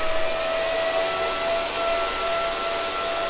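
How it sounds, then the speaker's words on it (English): A solar-powered ASIC Bitcoin mining machine runs with a loud, steady fan roar and a thin constant whine, close and unbroken, with no talk. "right now you can hear the miner. The miner has started running."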